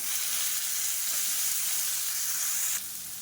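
Chopped tomatoes and green chilies sauté in a hot pan, giving a steady close sizzle and hiss throughout that drops a little in level near the end, with no talking.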